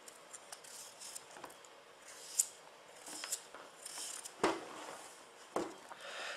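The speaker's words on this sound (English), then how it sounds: "I then use a peeler, or you could use a simple little knife just to go round" A small knife or peeler scrapes the skin off a vegetable in a series of quiet, close rasping strokes with a few sharper cuts, irregularly spaced.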